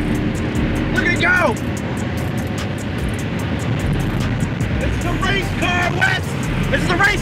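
An engine roars steadily under hard kickdown acceleration inside an old 24 Hours of Lemons race car with 332,000 miles, with excited voices shouting over the drone.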